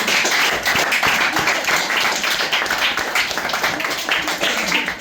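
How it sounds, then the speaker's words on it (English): Slow clapping from a group of people, broad and steady, close by, with faint voices murmuring underneath. "Whoever was slow clapping, that's very harsh."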